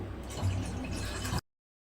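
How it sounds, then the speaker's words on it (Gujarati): Water is poured into a cooking pot to start a millet flour soup, a close, brief splashing fill lasting about a second before the sound cuts off. "સૌથી પહેલાં આપણે પાણી ઉમેરીશું"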